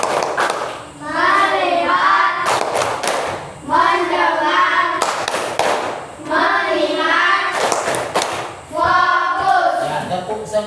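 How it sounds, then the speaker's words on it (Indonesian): Children in a classroom play the rhythmic 'tepuk fokus' clapping game, chanting words in unison between bursts of claps in a repeating pattern, loud and close, with a teacher leading. "Ayo kita tepuk fokus ya."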